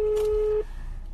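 A mobile phone placing an outgoing call sounds a single steady ringback tone that holds for about half a second and then cuts off, leaving faint background hiss.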